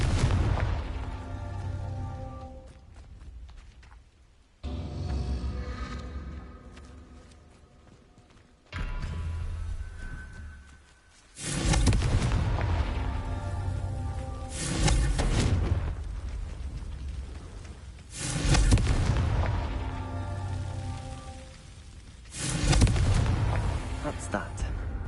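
Spell explosions from the Confringo curse in the Hogwarts Legacy video game, several loud booming blasts in succession with rumbling tails, spaced a few seconds apart over a steady game background.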